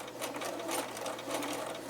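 A sewing machine stitching scrappy quilt binding runs steadily at close range, a fast even mechanical whirring and needle chatter with no pauses.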